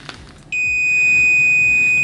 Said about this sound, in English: we get that nice high voltage alert. Visual as well as an audio, just letting us know we're in the danger zone.